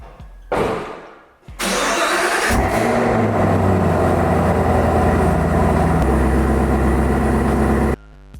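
A 2017 Chevrolet Camaro ZL1 cranks over and fires, its engine catching with a loud burst and then settling into a steady, rumbling idle that lasts several seconds before cutting off abruptly.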